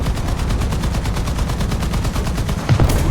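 Rapid, steady machine-gun fire from tanks in War Thunder, including BT-5 and BT-7 light tanks, keeps up a loud, even rhythm for about three seconds with a heavier blast near the end.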